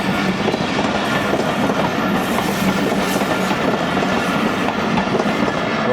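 Awam Express passenger train running at speed, a steady loud rush of wheels and rail noise with rhythmic clickety-clack throughout, heard from on board.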